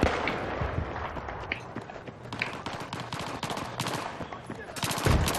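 Bursts of automatic gunfire and scattered shots from a Battlefield 3 multiplayer match rattle continuously, dense and fairly loud, with game ambience underneath.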